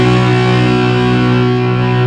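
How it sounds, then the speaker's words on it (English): An electric guitar played through amp distortion holds a loud, buzzing, sustained power chord from the sixth and fifth strings plucked together with a plectrum, ringing steadily with no talk. "Now obviously I've got the distortion on my amp"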